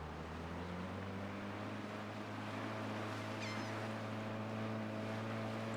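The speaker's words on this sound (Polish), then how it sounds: "Ta motorówka za szybka jest." A speedboat's engine in the video game Drug Dealer Simulator 2 drones steadily and fairly loud throughout, with a low constant hum over water and wind noise and a brief higher chirp partway through.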